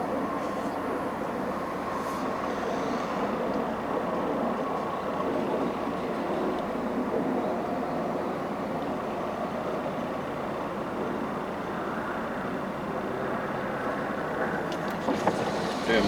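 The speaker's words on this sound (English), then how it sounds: "Damn overpass is noisy today" Steady road roar of traffic echoing under a highway overpass while driving, a constant broadband rumble with no talk over it.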